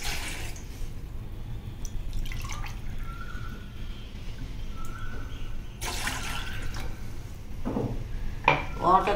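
Water from two glasses is poured into a vessel to make a Ranapala leaf decoction, with short splashing bursts and light trickling over a low background hum.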